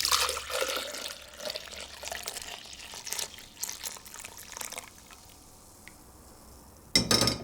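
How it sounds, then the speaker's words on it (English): Scented floral wine jelly poured from a pan into a jug in a kitchen, a steady liquid stream with light splashing for several seconds before it thins out, ending with a brief clatter. "I'm going to pour this into a jug first"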